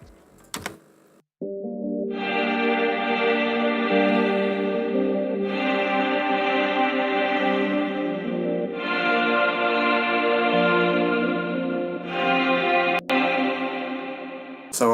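Two automated reverb sends carrying the low and high vocal parts of an indie folk song, heard alone without the dry voice: sustained, washy harmonized tones swelling in long phrases with brief gaps, loud and steady, no speech.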